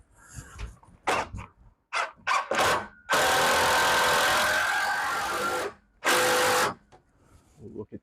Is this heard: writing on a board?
no